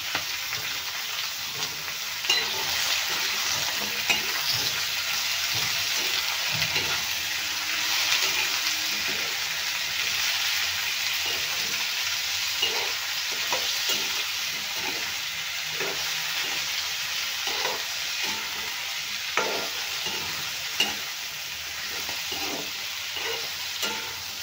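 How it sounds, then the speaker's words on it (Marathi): Pumpkin pieces fry in oil in a pan, giving a steady, close sizzle that runs throughout, broken by light clicks and taps of stirring. "किती छान असं आपला भोपळा पण तेलात फ्राय होत आहे"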